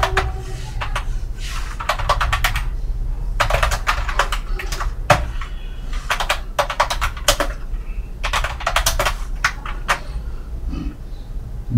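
Code is typed on a computer keyboard in bursts of rapid, close key clicks separated by short pauses, set against a steady low background hum.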